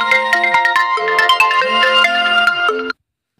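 An incoming call on a mobile phone sets off a melodic electronic ringtone, bright tonal notes stepping up and down in a steady pattern for about three seconds before cutting off abruptly, loud and close with no voices.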